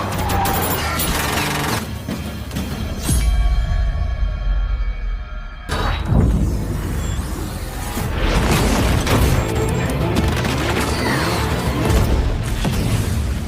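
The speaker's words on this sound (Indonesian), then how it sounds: "aksi tembak-tembakan pun terjadi" Rapid bursts of gunfire and booming impacts crackle through a dense, chaotic action soundtrack with whooshes and mechanical clatter, loud and continuous throughout.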